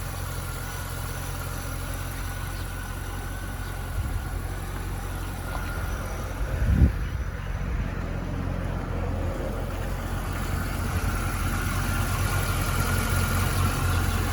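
A naturally aspirated 5.7 liter dual overhead cam V8 in a 2000 Chevy Corvette with 98,000 miles idles steadily, a low continuous rumble held close with one small bump midway.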